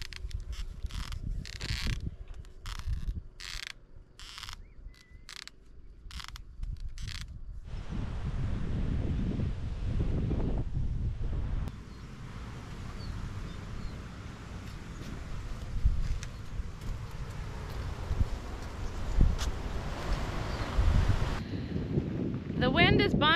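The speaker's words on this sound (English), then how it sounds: "The wind is bonkers again today." Strong wind at an off-grid homestead roars and buffets the microphone continuously, with gusts rising and falling, some creaking and clattering, and rapid rattling at the start.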